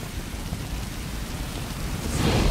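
Heavy rain pours in a steady, dense hiss in a film scene, swelling louder toward the end, with no voices.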